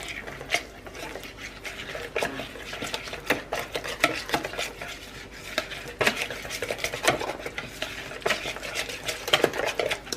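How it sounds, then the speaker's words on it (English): Crockpot dessert batter with vanilla being mixed in a bowl, steady rhythmic stirring with frequent clicks and scrapes of utensil on the dish, close and continuous. "you will also need to add a teaspoon of vanilla, and then you mix it all up"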